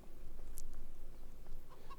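Faint clucking of chickens in the farming video game Farming Simulator 25, over a steady low hum, with a few soft scattered calls and brief chirps.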